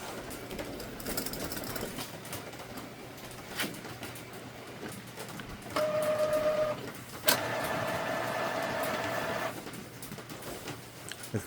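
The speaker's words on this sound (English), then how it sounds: "I gotta wait a little bit because printer's starting up." Epson ET-2720 inkjet printer starting up during a cleaning cycle, with mechanical whirring, a steady hum and carriage motor tones that swell in stages near the end, heard close and alone.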